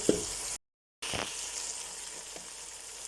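Chicken pieces frying in a pot for chicken and peas pulao, a steady soft sizzle with occasional stirring clatter, broken by a brief silent gap.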